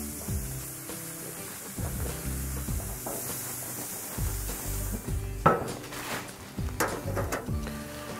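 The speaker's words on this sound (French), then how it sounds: "Donc, je viens placer mes boulettes de viande sur le grill. Et on commence la cuisson." Turkey burger patties set onto a hot grill, a crackling sizzle rising beneath scattered clunks and taps as the meat starts cooking, close by with some clattering handling sounds.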